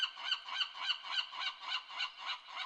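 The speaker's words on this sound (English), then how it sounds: "Well, I can hear some seagulls." Seagulls calling in the video game Escape from Monkey Island, a repeating series of about nine nasal, honking cries at an even rhythm, moderately close, with no talk.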